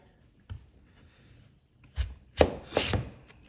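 A chef knife cutting a peeled sweet potato on a cutting board for roasting, with one isolated chop followed by a cluster of three louder, closer thuds and slices near the end, and no talking.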